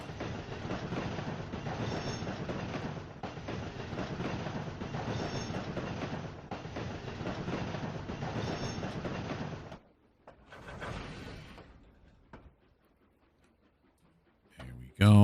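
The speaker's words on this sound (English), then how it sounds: "I'm going to push all the boxcars over there until we get up to here." Trainz 2019 locomotive pushing loaded C&O boxcars near Hinton, a steady rolling rumble with faint wheel squeal that stops abruptly partway, leaving quiet with a soft rustle.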